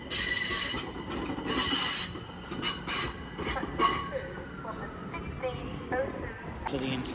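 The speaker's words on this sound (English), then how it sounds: "Yet another 378 here. Terminating in from Watford Junction. Being worked with 378-202." Class 378 electric unit 378-202 pulling into London Euston from Watford Junction: close rumbling wheels with high metallic squeals and hissing, steady then easing as it slows, with people talking nearby.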